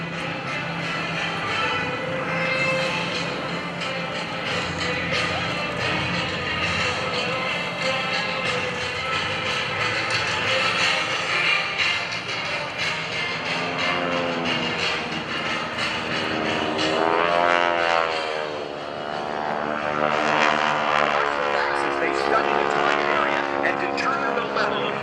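Two forward air controller planes flying overhead at an airshow, a broad droning roar that swells as they pass, with a public-address voice announcing throughout.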